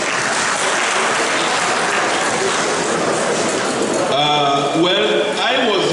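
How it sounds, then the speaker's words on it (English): An audience at a university alumni lecture applauds in a steady, dense wash of clapping that fills the room, with a voice and some tonal sounds breaking through near the end. "Let's have a round of applause for all UIs."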